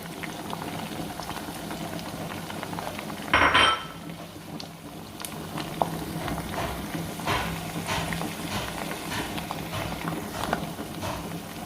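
African oil bean (ugba) goes into a pot of simmering palm oil sauce with a short clatter against the pot, then a low bubbling simmer with faint scattered clinks.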